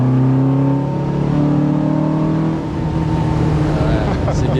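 A Porsche 914 sports car engine revs up steadily as it accelerates uphill, its tone climbing, loud and close.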